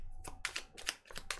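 Tarot cards being reshuffled by hand: a series of short, crisp riffling flicks and taps in quick irregular bursts, close and fairly quiet.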